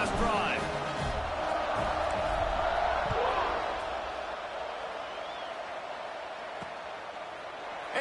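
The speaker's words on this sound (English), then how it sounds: "this crowd is feeling themselves after that last drive" Stadium crowd in the NCAA Football 2026 video game roars steadily around a kickoff, loud at first and easing slightly, with a commentator talking over it.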